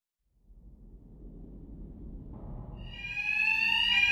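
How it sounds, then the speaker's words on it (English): A fire alarm in Batman: Arkham Knight rises out of silence as a low rumble, then a loud, sustained electronic tone sounds continuously near at hand. "Two Faces thugs won't hear me over the alarm."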